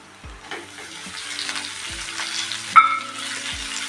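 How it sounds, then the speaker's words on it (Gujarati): Chopped fenugreek leaves sautéed in hot oil with garlic, making a steady close hiss of frying, with a few soft knocks and a sharp clink from the pan and spoon and no speech. "ભાજીને પણ તેલમાં સારી રીતે સાતળી દેશું"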